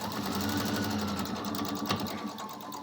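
A sewing machine stitching quilt seams runs in a continuous, fast, even whirring clatter throughout, close and steady, with no talk over it.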